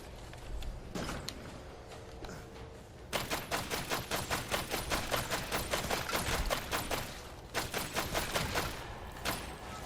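Rapid gunfire in the twin-stick shooter game Killsquad, quick regular bursts of shots firing in long strings, pausing briefly and resuming, over faint background game sound.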